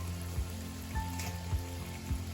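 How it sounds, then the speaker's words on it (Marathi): Mumbai vada pav potato fritters fry in hot oil with a steady, close sizzle, broken by a few soft rhythmic thumps. "तर आपले वडे एका साईडने छान असे तळून झाले"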